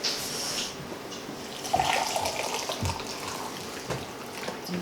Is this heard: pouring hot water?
yes